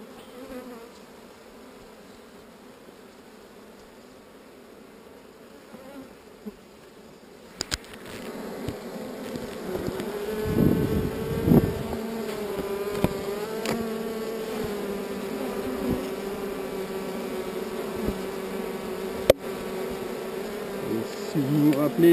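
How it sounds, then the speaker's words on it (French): Calm honey bees buzz steadily during a honey harvest, a dense, continuous drone that starts faint and swells loud and close after several seconds, then holds without a break. "des abeilles très très calmes et qui ont bien travaillé"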